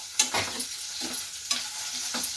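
Garlic cloves frying in a pan for a carrot chutney, a steady sizzle with a few soft stirring scrapes and clatters, close and moderately loud, with no talking.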